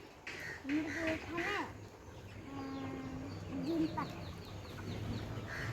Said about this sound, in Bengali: তুমি কি দেখতেছ মুরগি মুরগি কি করে এখানে